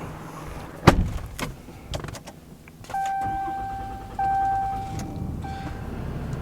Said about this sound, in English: let's go ahead and start this truck up too